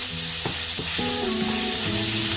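Minced garlic sautéing with mushrooms in a pan gives a steady hiss, with a few soft clicks and scrapes near the start, and no voices over it.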